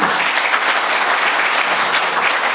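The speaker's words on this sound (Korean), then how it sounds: "뜨거운 박수 한번 부탁드리겠습니다" Audience applause at a book launch event for a history book, a dense, steady burst of many hands clapping that fills the room without pause.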